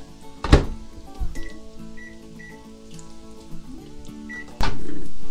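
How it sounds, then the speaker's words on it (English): A microwave oven heating solid pork stock to melt it, with clunks and a few short beeps before the steady, fairly loud hum of the oven starts up near the end. "I'm going to put this in the microwave and try to turn it into a liquid"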